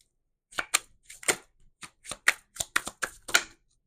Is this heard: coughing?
no